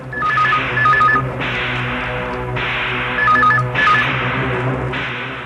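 A telephone rings in a tense detective drama scene, two rounds of repeated electronic trilling bursts with short pauses, loud and close over a steady low hum, no voices.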